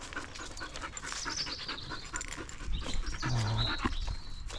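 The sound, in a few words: German Shepherd dog panting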